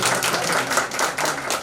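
An audience clapping together at a family gathering announcing a property dedication, a continuous, fairly loud patter of hands heard close with small dips and surges in intensity.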